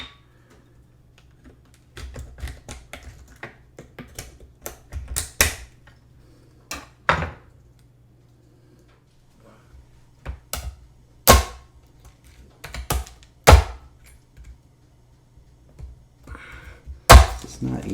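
A knife chops cinnamon sticks on a cutting board in irregular clusters of loud, sharp woody cracks and snaps, close up and separated by quiet pauses, with no talk.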